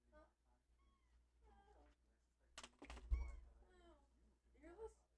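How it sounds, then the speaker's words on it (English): A cat meows repeatedly nearby, its calls answering people who talk over it indoors, with some keyboard-like tapping in the background. "Do you hear this cat?"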